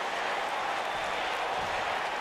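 Wrestling arena crowd in an AEW video game applauding and roaring, a steady, dense wash of sound that holds at an even level throughout without a break.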